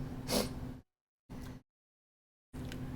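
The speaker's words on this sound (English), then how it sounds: "Excuse my sniffles, I have a bit of a stuffy nose right now." Three short, close nasal sniffs separated by silence, soft and breathy like a stuffy nose.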